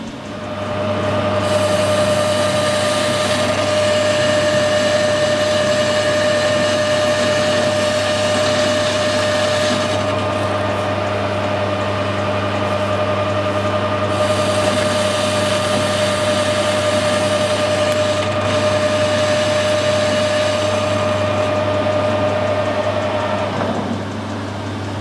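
A lathe spins a slitting saw arbour in a workshop, producing a loud, steady motor hum and whir with a constant tonal drone that holds unchanged for about 24 seconds before easing slightly at the end.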